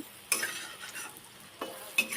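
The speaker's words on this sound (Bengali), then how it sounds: "অল্প অল্প করে দিয়ে ভেজে নেবো" Gentle frying sizzle of bitter gourd in a pan with a few sharp scrapes and taps of a utensil against the metal.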